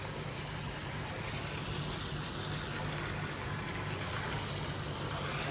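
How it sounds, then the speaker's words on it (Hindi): Water gushes from a fully burst pipe on a dairy farm, a steady, loud, unbroken rush that fills the whole stretch with no pauses and no voices. "कितना पानी निकल रहा है, पाइप पूरी फट गई है।"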